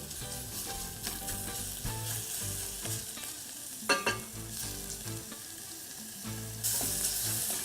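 Mushrooms cook down in a pan for a mushroom bisque, giving a steady close sizzle and frying crackle with a few stirring scrapes, continuous and without speech.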